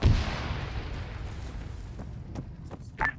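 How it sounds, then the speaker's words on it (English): A single heavy boom during a military heliborne assault field exercise, loud and near at the start and then decaying into a long rumbling tail, with faint clicks and a brief burst near the end. "I heard another explosion"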